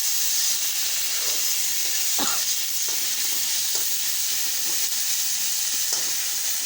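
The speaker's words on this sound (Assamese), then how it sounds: "এই টমাটো দি আছোঁ। ভালকৈ অকণমান ৰঙাকৈ ভালকৈ ফ্ৰাই কৰি ল'ম।" Tomatoes fry in a hot pan with a continuous, even sizzle, with a few soft stirring scrapes and clicks and no voice over it.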